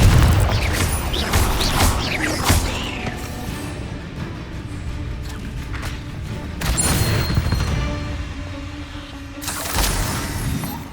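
An explosive Confringo spell cast in the game Hogwarts Legacy inside a cave, heard as loud booming blasts and crashing debris that come in several bursts over a rumbling background.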